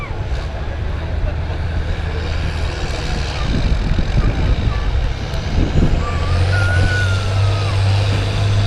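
A semi truck engine held near its 3,000 RPM limit roars hard through a truck pull, dragging a sled on a hitch 20 inches off the ground; a loud, sustained drone shifts in pitch toward the end, with faint voices behind it.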